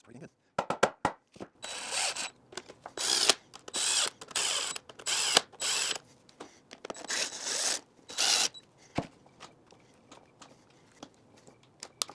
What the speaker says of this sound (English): then we'll put the top on and start bolting things together